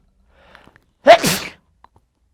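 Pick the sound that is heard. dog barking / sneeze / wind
sneeze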